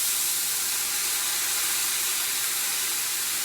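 About a cup of white wine cooks down in a hot pot over a big flame for chicken with olives and capers, giving a loud, continuous steamy hiss that holds steady throughout, with no talk.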